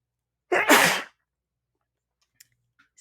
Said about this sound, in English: I think I'm fixing to sneeze.